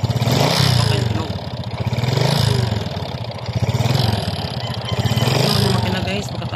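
A rebuilt Honda XRM 125 motorcycle engine with a new piston runs close by, revved in repeated rising and falling swells with a light mechanical clatter between them.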